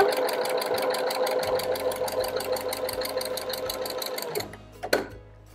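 A domestic sewing machine stitches a zigzag test on fabric with a fast, even mechanical clatter that runs steadily up close, then stops, followed by a few brief handling clicks.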